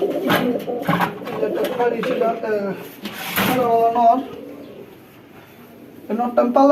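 Pigeons coo in low, throaty bursts nearby, mixed with a person talking close by and a brief clatter.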